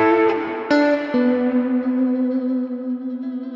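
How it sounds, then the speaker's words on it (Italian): Electric guitar run through a custom JD Stomps boost pedal, a sustained lead tone with several picked notes early on, then one long ringing note decaying slowly with echo and reverb, heard alone and up close. "se vogliamo più suono, un suono solista, possiamo andare a schiacciare il boost"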